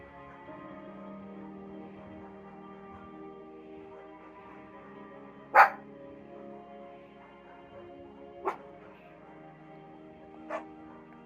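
A dog barks in the Firewatch video game, three spaced single barks, the first loudest, over a soft ambient hum and quiet background drone.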